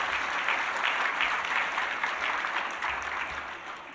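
A church congregation claps together during a Sunday worship service, a full, even burst of applause that holds steady and then slowly tapers off toward the end.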